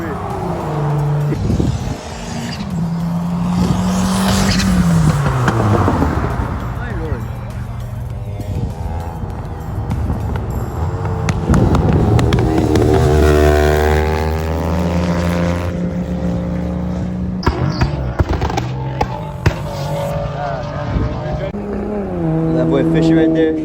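A Mitsubishi Evo 10 and a VW GTI, both with full bolt-ons, racing on a South Florida street, engines roaring and rising in pitch through repeated gear changes, loud and sustained, with voices talking over the engine noise throughout.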